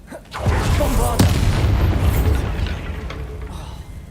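The Bombarda spell in Hogwarts Legacy detonates as a loud, close explosion, a deep booming blast with crackling debris that swells after a short onset and slowly fades over a few seconds.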